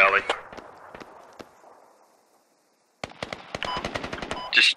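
Automatic gunfire in the military shooter video game Squad: a sharp burst of rapid shots, a fading echo and a brief silence, then a denser volley of cracks mixed with voice chatter.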